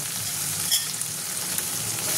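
Chicken pieces fry in a pan for Bengali-style chow mein, giving a steady close sizzle with faint scraping and stirring throughout and no talk.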